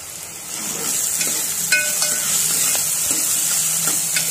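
Two to three cloves fry in oil in a pan while being stirred, a steady close sizzle with scattered scraping clicks of the spoon against the pan, no voices over it.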